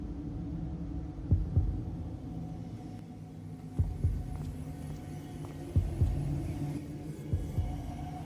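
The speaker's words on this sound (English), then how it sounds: "There's also a heartbeat and increasing in frequency through the mix." A low, thudding heartbeat pulses through a humming Xenosaga cutscene mix, its double beats arriving in irregular clusters over a steady droning rumble and faint static.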